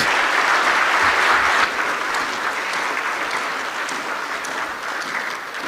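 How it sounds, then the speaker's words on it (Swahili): A large standing audience at a formal event for the President of Tanzania applauds in a steady, dense wash of clapping that fades slightly partway through, with no speech over it. "naomba tuinuke na tuendelee kupiga makofi mengi kwa Mheshimiwa Rais"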